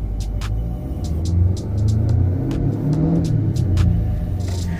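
A turbocharged Dodge Challenger Redeye engine rumbles low and close, rising briefly in a couple of short revs before settling back toward idle, with faint clicks above.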